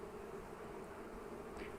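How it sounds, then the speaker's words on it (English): Honey bees hum with a low, steady drone inside a healthy, crowded nuc hive as they build comb between the frames and the roof. The buzzing is faint and continuous, with no voices over it. "it's a nice healthy nuke with a lot of bees in here"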